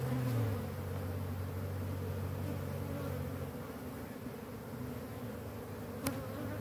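Many honeybees swarm and hum around a defensive hive taken from a water meter cutout. Their buzz is a loud, continuous drone of layered tones that stays close, with a brief sharp click near the end.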